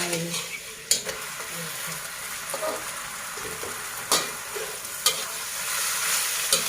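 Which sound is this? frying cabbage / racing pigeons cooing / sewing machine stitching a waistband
frying cabbage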